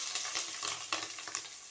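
Chopped onion and green chillies sautéing in a pan for roadside-style black chana masala sundal, a fairly quiet continuous sizzle broken by several light scrapes and taps of a stirring spoon.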